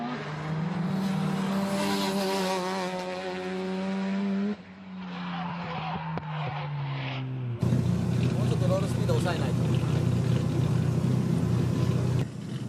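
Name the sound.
Doriken's turbocharged drift car on a warm-up run at Tsukuba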